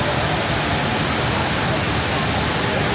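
Steady full roar of the HSBC Rain Vortex, an indoor waterfall plunging inside Changi Airport's Jewel shopping mall, a dense unbroken wash of falling water filling the space at close range.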